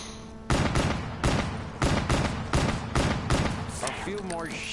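Repeated gunshots from a zombie video game, about six sharp, evenly spaced bursts, loud and close, each followed by a brief ringing tail.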